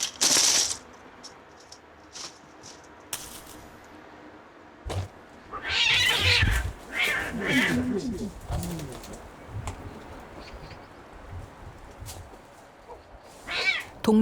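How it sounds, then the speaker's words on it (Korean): Unneutered male cats yowl fiercely during breeding season in a neighbourhood, with drawn-out wailing cries rising and falling amid pigeon coos and quieter ambient stretches, and a narrator talking at times. "동네 곳곳에서 들리는 사나운 울음소리"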